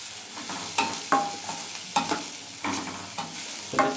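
Green chilies fry in hot oil with a continuous sizzling hiss, while a utensil stirs and scrapes the pan in regular strokes close by.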